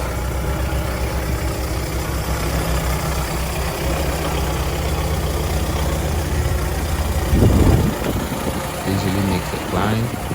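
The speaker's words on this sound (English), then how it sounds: "So here we get a quick drive, getting the Roxor back home for the night." A 2020 Mahindra Roxor off-road vehicle drives with its engine running steadily throughout, a loud, constant low rumble with a brief surge near the end.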